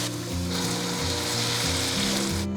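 Water goes into a hot wok of stir-fried soaked rice with soy sauce, setting off a loud, steady sizzle and hiss that fills the whole short moment.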